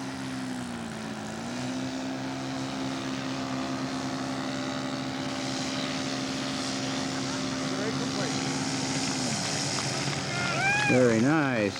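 A scale model propeller airplane approaching to land from over a grass strip toward a hard-surface runway, its engine a steady, droning buzz that drops in pitch as the throttle is cut, with voices in the background.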